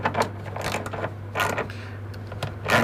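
A spanner turns a screw tap in a hole in steel during Jeep XJ rear tube fender flare fabrication, giving close, intermittent metallic creaks and ratcheting grinds.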